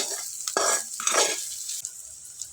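Onion and coriander sizzle in oil while a spatula stirs them in a few scraping strokes, close and fairly quiet.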